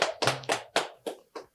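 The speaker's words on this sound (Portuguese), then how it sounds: "Salva de palmas!" A few people clap in a podcast studio, about six close, sharp claps in an uneven rhythm, each ringing briefly before the next, with no talking.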